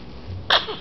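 One short, sharp sneeze bursts out close by, brief and alone in a quiet room.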